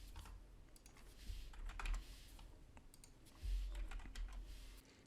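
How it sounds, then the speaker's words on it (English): A computer keyboard and mouse give quick, quiet clicks and taps, scattered irregularly across a faint, steady room hum with no talk. "we will press 3 on the keyboard, left click, and we get the constant trio vector"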